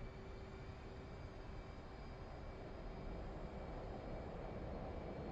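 F/A-18 jet engines roar at full afterburner in the DCS flight simulator game, a steady, broad, low rumbling roar with faint whining tones, constant and fairly quiet throughout, with no voices.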